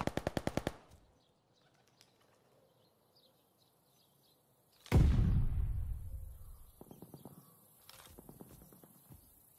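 A short loud burst of MP-40 machine gun fire opens the scene in the Call of Duty ranked match, followed by a heavy blast and scattered later shots in the distance.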